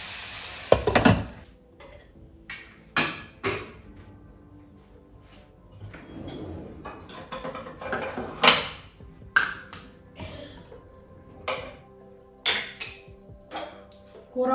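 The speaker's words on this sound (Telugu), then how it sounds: "ఇలా కలిపేసి మూత పెట్టేస్తున్నాను." Bottle gourd curry being stirred in a pot, with a handful of scattered knocks and clatters of the utensil and the lid being set on, spread across quiet gaps, with faint talk in the background.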